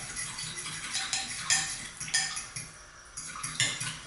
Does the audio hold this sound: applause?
no